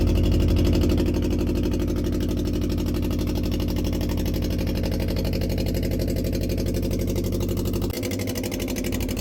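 A traditional prawn-fishing boat's engine idles low and steady with a constant rumble, then cuts back abruptly near the end as it is switched off, leaving a rougher, quieter sputter.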